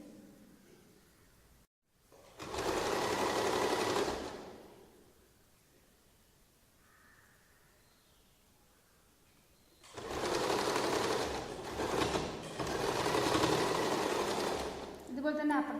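An electric sewing machine runs in two bursts while stitching the lining of a churidar top, a steady close whirring hum that stops for a quiet pause before resuming for several seconds.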